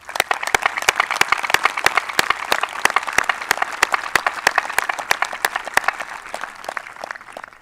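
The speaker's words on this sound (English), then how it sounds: "Would you please join me in a round of applause for those individuals?" A graduation ceremony audience applauds steadily, with many hands clapping in a dense, sustained patter that tapers slightly toward the end.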